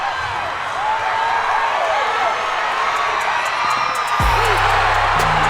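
A baseball stadium crowd cheers and whoops loudly and continuously, a dense roar of many voices with shouts and whistles, swelling near the end.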